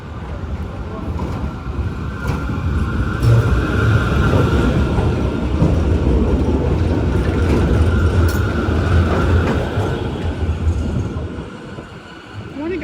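A Strassenbahn tram rolls past on a Frankfurt street in the Bahnhofsviertel, a loud, close, sustained rumble of wheels on rails that swells and holds for several seconds before easing off, with faint street background.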